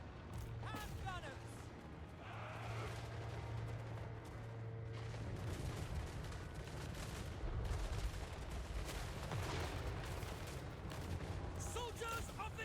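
Empire hand gunners firing a dense, continuous battlefield fusillade in Total War Warhammer 3, with booms and mechanical clatter mixed into the roar, and a voice talking over parts of it.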